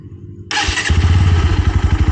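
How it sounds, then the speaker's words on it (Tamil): A Bajaj Pulsar NS160 motorcycle engine fires up suddenly and settles into a loud, throbbing exhaust rumble with a rapid, pulsing beat. "ஸோ எக்ஸாஸ்ட்டோட சவுண்டு கேட்போமா?"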